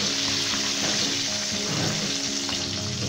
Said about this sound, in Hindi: फ्राई होते हुए 7 मिनट हो चुके हैं और इसका बहुत ही अच्छा गोल्डन कलर भी आ चुका है।